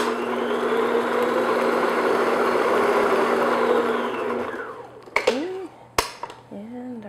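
Electric mixer beating an egg into red velvet cake batter, a steady whirring drone for several seconds that winds down, followed by a couple of clinks and a voice speaking.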